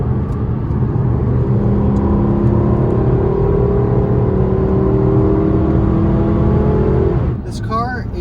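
A Lexus LC 500 in comfort mode cruises with a steady, smooth engine hum and road noise that stays even and moderate throughout, ending with a short burst of talk.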